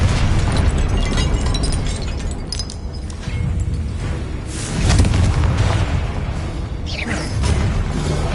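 Confringo fire spell explosions in Hogwarts Legacy, loud booming blasts and fiery bursts layered over a continuous rumbling game soundscape, with several impacts spread across the stretch.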